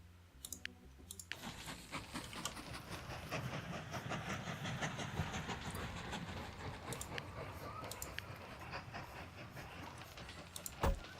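Train running in the rail-building game Mashinky: a steady rumbling, clicking run of wheels on track that fills the whole stretch at moderate level, with no talk over it.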